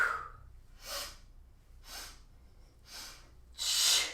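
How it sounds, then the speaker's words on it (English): Sharp nasal sniffs during Pilates twists, five distinct bursts spaced roughly a second apart, close and fairly quiet, the last one the loudest, with no talking. "Sniff, sniff, sniff."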